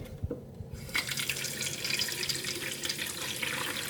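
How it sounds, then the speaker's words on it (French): Water pouring into the tank of a portable air conditioner with no exhaust hose. The stream splashes steadily and fairly close, with no talk over it. "je vais mettre de l'eau dedans"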